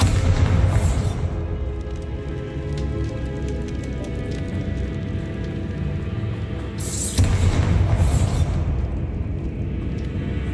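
The Bombarda explosion spell in Hogwarts Legacy bursts twice, each a loud, broad blast rising over a dense, constant rumbling game soundscape.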